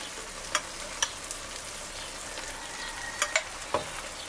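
Garlic and parsley picada sizzles in a paella pan, a steady close frying hiss broken by a few sharp pops and stirring clicks.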